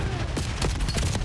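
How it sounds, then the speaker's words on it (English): Rapid bursts of gunfire in a competitive Call of Duty League Search and Destroy match, several sharp shots over a dense, loud game mix with a steady low rumble. "Starting things off with a Halo gunfire, and finally Neptune can get the kill."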